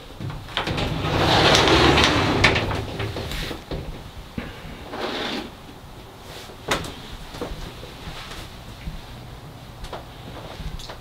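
Glass shower doors in a remodeled mobile home bathroom slide along their track, producing a broad rushing swish near the start, a shorter second glide and a few light knocks and clicks, heard close in a quiet room.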